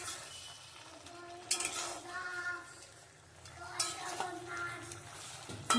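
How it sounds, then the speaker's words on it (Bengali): Rohu fish pieces being stirred with pumpkin in a frying pan, giving a steady soft sizzle with intermittent scraping and clinks of a spatula against the pan, close and continuous. "মিশিয়ে ভালো করে কিছুক্ষণ কষে নেব"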